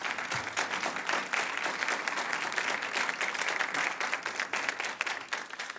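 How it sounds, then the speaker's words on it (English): Sustained audience applause at a student television awards event, many hands clapping densely and steadily throughout, fairly close and full, with no talk over it. "Let's give them another round of applause."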